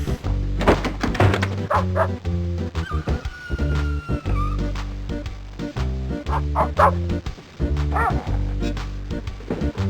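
A small yappy dog barking and yipping repeatedly in quick bursts, loud and close, with thuds and whimpers mixed in and a brief tone in the middle.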